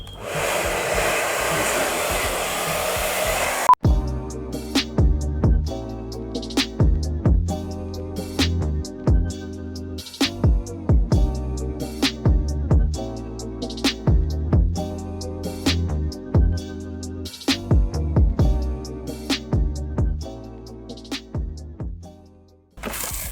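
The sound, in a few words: hair dryer heating skateboard grip tape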